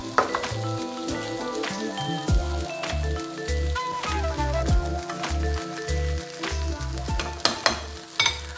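Tomato passata and beans sauté in a pan with a steady sizzle, punctuated by clinks and scrapes of a utensil stirring, close and moderately quiet, with a low hum underneath.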